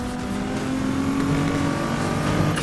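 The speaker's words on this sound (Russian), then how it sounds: "Обожаю звук этого движка." A car engine in a racing video game revs loudly and steadily, a throaty continuous roar with shifting pitch, close up and without any talking.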